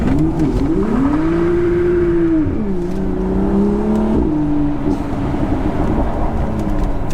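A BMW drives with DSC switched off, its engine droning loudly and continuously, the pitch rising and falling through revs and gear changes, close and alone with no talk.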